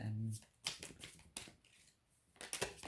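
A card drawn and shuffled from a tarot-style advice deck, producing a few soft papery slaps and rustles close by, with a voice talking around them.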